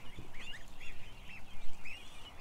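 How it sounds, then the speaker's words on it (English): Several young geese make repeated short squeaky honks and peeps close by over a low background rustle, with no talking. "They're picking on my phone case. These geese, man."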